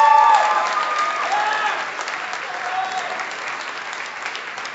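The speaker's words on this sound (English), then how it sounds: "Round of applause for Kieran." Applause fills a student union election results night as a candidate is eliminated, dense clapping from a crowd that starts loud and slowly fades over a few seconds.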